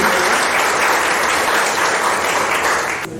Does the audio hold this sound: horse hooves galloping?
no